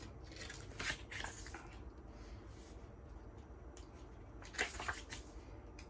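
Pages of an ice machine's paper instruction book are flipped through, two crisp rustling page turns a few seconds apart over a low steady indoor hum, quiet and close, no talking.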